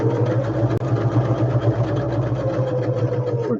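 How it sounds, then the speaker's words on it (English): A sewing machine runs steadily while stitching around the edges of paper craft tags, giving a continuous close mechanical whir with a rapid even needle rhythm. A brief click breaks in near the start. "I'm again just stitching around the edges"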